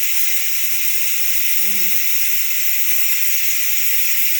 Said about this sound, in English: When enough steam is vented, this red dot will go down.